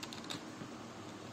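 Light, quick keystrokes tap on a computer keyboard while an IP address is entered, faint and steady with no talk.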